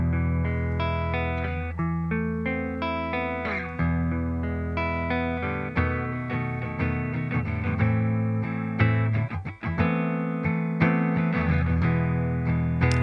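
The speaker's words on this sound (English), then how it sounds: "So let's take a listen to the ES-175." A Gibson ES-175 hollow-body electric guitar played through a Fender Deluxe Reverb amp miked with an SM57, sustained chords and melodic lines ringing loud and close with reverb, alone without voices.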